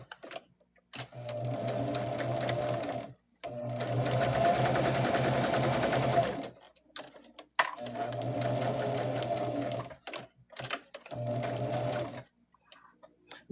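A sewing machine stitches quilt fabric for a table topper in several bursts of steady, even whirring, separated by short pauses, close up and clear.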